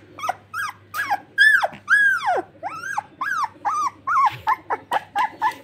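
A male Labrador makes close, repeated yelps and whimpers in quick rising and falling bursts, about a dozen in steady rhythm, with low growly undertones and no talk over them.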